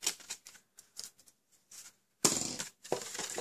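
Scissors snip along score lines in card while making a small desk tidy, giving short, close, crisp cutting and rustling sounds in uneven bursts with quiet gaps between them.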